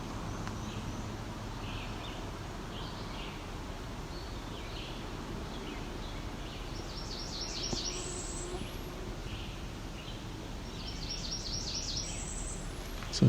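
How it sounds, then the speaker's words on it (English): A cerulean warbler sings in woodland at the far northern edge of its range, short buzzy high phrases repeating at intervals, faint and distant over a constant low background hum. "it does sound close to a cerulean warbler"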